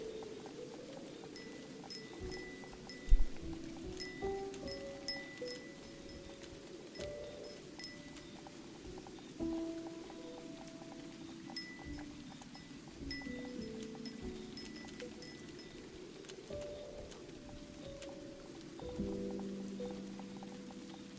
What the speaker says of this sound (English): Configure background sounds to like rain, wind, and other sounds.